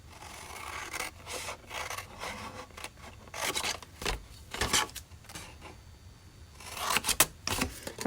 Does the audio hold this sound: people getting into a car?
no